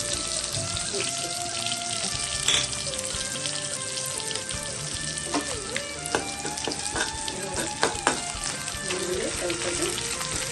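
White cumin, dried red chillies, kasuri methi, cardamom and cinnamon fry in hot oil, giving a steady close sizzle with scattered crackles and pops and a few light utensil taps, no speech.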